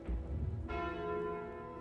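A single bright bell chime from the Bell relic in Slay the Spire, striking once and ringing out with a sustained, slowly fading metallic tone.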